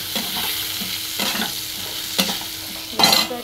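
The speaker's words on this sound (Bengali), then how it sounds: "এবার দেখো এই যে ভাজা ভাজা হয়ে গেছে, লাল লাল করে ভাজা হয়ে গেছে।" Flattened rice frying in a pan while being stirred, with a constant close sizzle broken by several distinct scraping strokes of a spatula, loud and alone with no talking.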